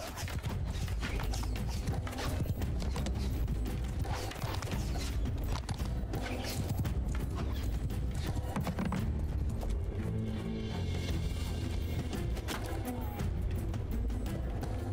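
Horse hooves clatter in Mount & Blade II Bannerlord with the Eagle Rising Roman mod, a dense busy stream of clip-clop mixed with battle clatter and creaks, loud and constant throughout.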